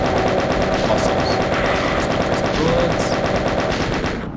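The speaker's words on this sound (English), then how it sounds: "switch to my chain gun here for this tunnel" Rapid, continuous chain gun fire from the 1993 video game Doom, a dense steady stream of shots filling the whole stretch at a constant loud level before tapering slightly at the end.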